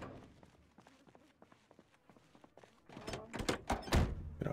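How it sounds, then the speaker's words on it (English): A door opens in the video game Project Zomboid, preceded by a run of soft thuds like footsteps, then a louder cluster of clunks and a heavy thunk near the end. "Let's open the door."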